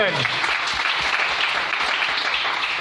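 Worshippers at a church healing service break into steady, vigorous applause, a continuous wash of clapping that stays loud and even, with scattered voices underneath.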